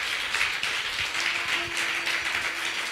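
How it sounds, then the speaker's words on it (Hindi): Enthusiastic audience applause at a spiritual gathering, a dense, continuous wash of many hands clapping at an even level for the whole stretch, with no voices over it. "जोरदार तालियां।"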